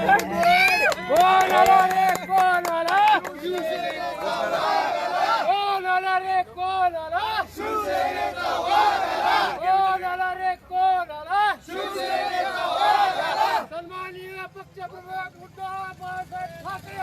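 Maha Vikas Aghadi party workers celebrate an election lead in Dharashiv with loud, continuous shouting and chanting, many voices overlapping close by.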